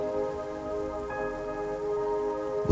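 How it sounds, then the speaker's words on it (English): Gentle rain falls steadily as a soft, even wash, with faint tonal hum layered beneath and a slight swell at the very end. "Listen to the gentle rain."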